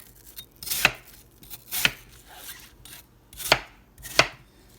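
Apples being cut for a dessert with brown sugar, cinnamon and lemon juice: four sharp knife chops on a board at roughly one-second intervals, close and alone with no talking.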